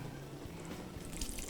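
Cold water poured from a measuring cup, a short splashing trickle heard close up in a kitchen, with no talking during it.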